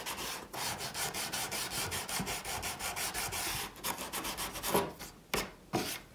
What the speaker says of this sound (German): Dazu nehme ich immer die Gleisradiergummi.